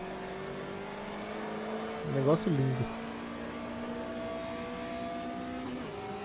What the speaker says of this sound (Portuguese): Motor de Fusca.